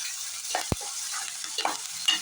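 Curry leaves hit hot oil over frying tomatoes and onions, giving a steady close sizzle with a few brief crackles and spoon-stirring scrapes, with no talk.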